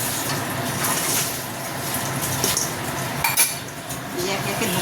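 A utensil stirs a pot of Bengali dhoka curry just dressed with garam masala and ghee, with repeated metallic scrapes and clinks against the pot over a soft bubbling background.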